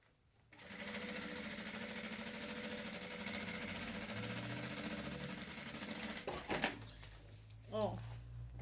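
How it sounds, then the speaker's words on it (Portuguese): Sewing machine running a continuous seam on a lunch bag, a steady close whir lasting several seconds before stopping, with a voice speaking afterward. "já faço a outra costura que também segura e também dá o acabamento"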